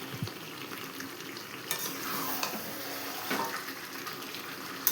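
Ingredients being stirred in a frying pan with two whole garlic cloves added, for a Bengali chicken kosha: a quiet, steady sizzle with occasional soft scrapes and taps of the spoon, no talking.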